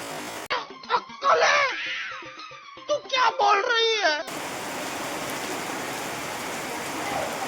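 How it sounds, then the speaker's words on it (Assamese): Steady rain hisses across the second half, alone, after a stretch of voices talking with a muffled, band-limited quality. "বৰষুণ চৰষুণ দি দিলে"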